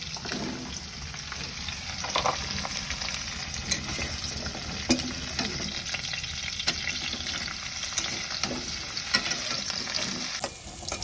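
Eggplant and potato frying in white oil in a wok give off a steady, close sizzle, broken by scattered clicks and scrapes of stirring; no one speaks.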